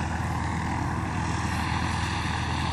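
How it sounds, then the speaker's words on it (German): A propeller airplane taking off and flying overhead, heard as a steady, loud, broad engine drone with a rough pulsing low end that holds constant, with no talking. "Tschüss, Flugzeug."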